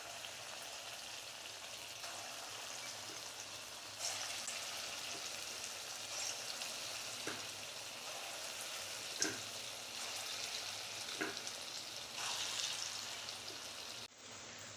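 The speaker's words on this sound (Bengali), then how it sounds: "এবার আমি বড়ার আকারে ভেজে নেব। তেলটাও গরম হয়ে গেছে" Pea lentil fritters fry in hot white oil in a wok, giving a steady, close sizzle with scattered crackles and pops throughout, then a brief drop in the hiss near the end.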